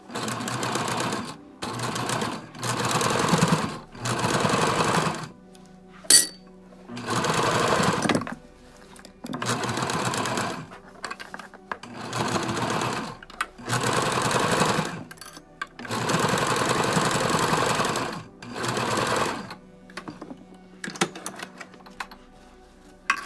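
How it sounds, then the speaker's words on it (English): A sewing machine top stitching a fabric face mask runs in repeated bursts of rapid needle chatter, each a second or two long, separated by brief pauses, close and fairly loud. "do left side needle, and let's add a little top stitch"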